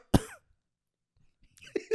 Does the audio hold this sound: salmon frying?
no